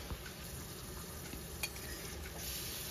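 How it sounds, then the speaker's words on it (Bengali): Spice masala with Kashmiri red chili powder stir-fried in oil over medium-low flame for a Bengali aar fish curry, a steady soft sizzle with faint scraping under it. "মিডিয়াম টু লো ফ্লেমে খুব ভালো করে মশলাটাকে আমি এভাবে কষিয়ে নিচ্ছি"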